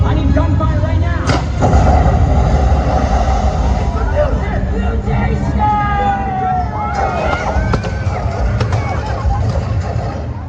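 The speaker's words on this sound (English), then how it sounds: "I need gunfire right now." Gunfire effects boom across a live Waterworld stunt show at Universal Studios Hollywood, loud and dense amid crowd and performer voices, with rumbling blasts and sharp cracks over a continuous roar of water and action noise.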